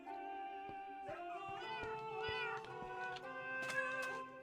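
Several cats meow in a Minecraft world, overlapping tonal mews at different pitches with a few sharp clicks, fairly close and steady over a soft ambient background, with no talk.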